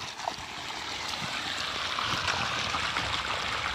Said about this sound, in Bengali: জল এসে গেছে।